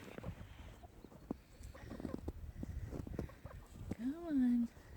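Backyard chickens including cuckoo Marans, an olive egger, lavender Orpingtons and a blue Jersey Giant rooster make scattered soft clucks, with one louder drawn-out call near the end, close by, while a person talks intermittently over them.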